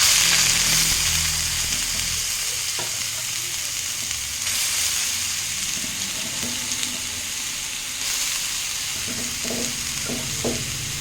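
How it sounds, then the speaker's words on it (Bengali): Banana stem hitting hot mustard-seed oil, a loud steady sizzle with stirring scrapes throughout, fading slightly after the first moments and swelling again, with a few clinks near the end. "তেলটা গরম হয়ে গেছে এবার আমি থোরটা দিয়ে দিচ্ছি"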